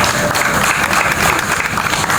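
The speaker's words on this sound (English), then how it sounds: "So let's give him a round of applause." Audience applause at a law conference marking 30 years of Ghana's 1992 Constitution, a dense, steady wash of clapping filling the whole stretch, close and fairly loud with no break.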